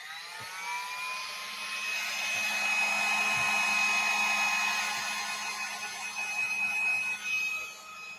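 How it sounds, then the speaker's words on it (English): Heat gun blowing hot air during a crafting project, a steady close whirring blast with a high whine that swells and then eases, with small knocks near the end. "Okay, heat gun."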